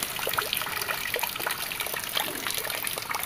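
Drinkable water trickles steadily in a forest stream, a close, continuous bubbling and splashing with no voices.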